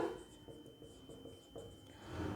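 Chalk or marker scratches softly across a classroom board in short, quiet strokes, with faint rubbing and no speech.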